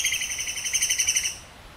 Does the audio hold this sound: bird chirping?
yes